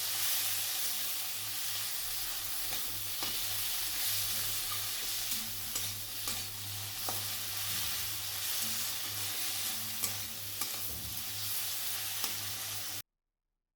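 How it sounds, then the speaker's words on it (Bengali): Chopped tomato and onion fry on a low flame in a pan for a katla fish dopiaza, with a steady, close sizzle that continues evenly throughout. "টমেটোটাকেও আমি 2 থেকে 3 মিনিট লো ফ্লেমে ভেজে নেব"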